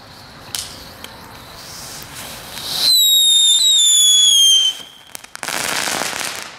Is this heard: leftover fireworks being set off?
yes